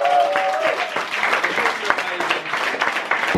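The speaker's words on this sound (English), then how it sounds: "I want to give yourselves another round of applause." An audience applauds at an adventure summit, a dense burst of clapping close by, with voices mixed into the crowd noise.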